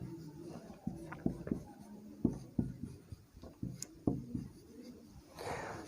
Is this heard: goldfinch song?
no